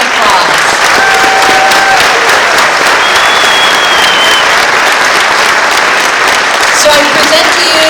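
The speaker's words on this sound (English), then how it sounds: "let's give a round of applause" Sustained loud applause from an audience at a nursing class of 2016 graduation ceremony, dense clapping with a few cheers and whistles, continuing for several seconds.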